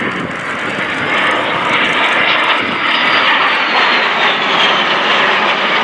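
A de Havilland Vampire jet of the Norwegian Air Force Historical Squadron flies at the RIAT 2018 airshow, giving a loud, sustained engine roar that swells slightly as it passes, with no voices.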